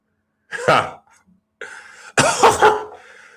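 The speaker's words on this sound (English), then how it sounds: "Did you just cough while you explaining this theory?" A man coughs several times in short, harsh bursts, close up, with brief pauses between them.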